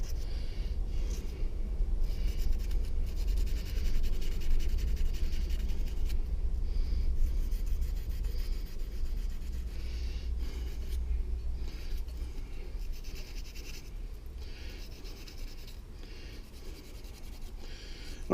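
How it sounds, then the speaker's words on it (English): Sandpaper rubs on a furnace part, a steady close scratchy scrubbing over a low hum that eases off toward the end. "I'm just gonna clean it off real good with the sandpaper"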